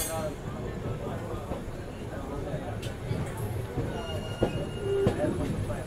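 Intercity Express from Godda to Ranchi pulling into platform 1 at Jasidih railway station, a continuous rolling rumble with metallic wheel squeals and clanks, with people talking nearby.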